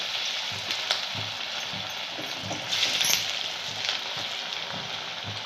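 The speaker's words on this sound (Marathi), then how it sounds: "आपण एक एक दोन दोन करून चांगला कडक होईपर्यंत आपल्याला तळून घ्यायच्या आहेत ह्या." Cabbage vadis deep-fry in hot oil with a dense, continuous crackling sizzle heard up close, swelling slightly at moments, without any speech.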